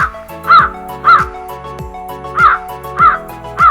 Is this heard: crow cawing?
yes